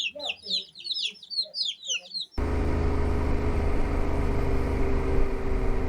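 Chickens at a hatchery in Peru cluck and squawk close by for a couple of seconds before cutting to steady engine-like background noise.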